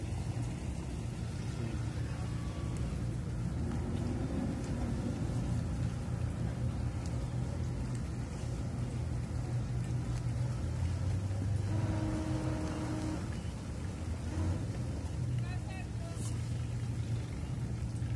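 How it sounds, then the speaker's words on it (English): Engines of an Elegance 82 motor yacht manoeuvring while mooring stern-to in a Mediterranean harbour, a steady low rumbling drone that holds throughout, with faint voices and harbour sounds in the background. "You shouldn't really be able to do that with your engines."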